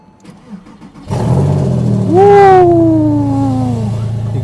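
A cheap used Porsche 911 starts on a cold day: a cranking burst catches into a loud engine, which rises in a rev and then settles to a steady idle, close by with no talking.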